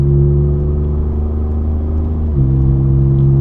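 A Ford Raptor exhaust accelerating through the gears in sport mode: a steady, loud engine drone with a pitch that rises slightly, then a clear drop at an upshift before it pulls again.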